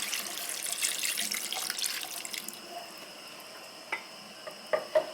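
Hot water poured into browned beef in a pot for stew, a steady splashing stream for about two and a half seconds, followed by a few faint knocks and clinks.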